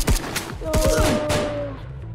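Gunfire in a Roblox Fallout-style game, a rapid burst of loud close shots followed by a ringing tone and scattered further shots.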